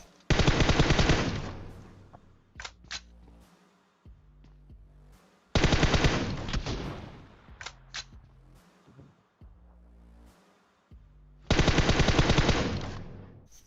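Automatic gunfire from PUBG Mobile during a 16-versus-squad match, with three long loud bursts of rapid shots separated by quieter single shots and gaps.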